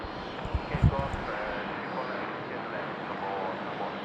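An airliner's engines roar steadily at Sydney Airport, a continuous broad rumble that fills the whole clip with muffled voices faintly underneath.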